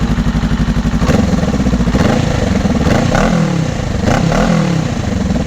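A Honda Rebel 500 engine with a Coffman's Thunder aftermarket exhaust rumbles loudly up close with a deep, throaty note, blipping and revving a few times over a pulsing idle.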